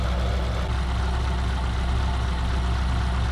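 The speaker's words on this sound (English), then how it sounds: "Tell me that isn't the smoothest running engine you've ever seen. It's on very low idle right now." A 1951 Mercury sedan engine idling very low and smooth, a steady close rumble with an even pulse that holds constant throughout, no voices over it.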